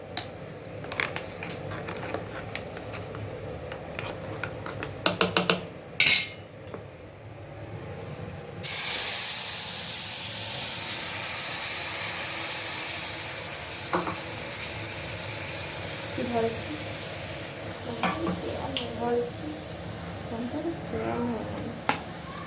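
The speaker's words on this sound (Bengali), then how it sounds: "জল মিশিয়ে নিয়ে এই মশলাটা ঢেলে দেবো" Spice paste mixed with water for a coriander pabda fish curry is poured into hot oil with black cumin, bursting into a loud hissing sizzle that settles into steady frying with clatters, after earlier knocks and voices.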